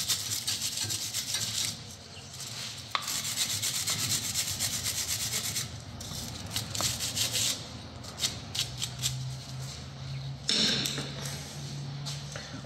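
A cloth wipes over the surfaces of a brake caliper on a Fiat 500L during a brake pad change, making close, repeated rubbing and scuffing strokes with brief pauses and a few light knocks.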